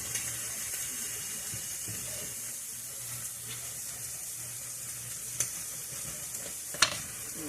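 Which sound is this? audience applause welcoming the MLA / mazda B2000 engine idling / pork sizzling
pork sizzling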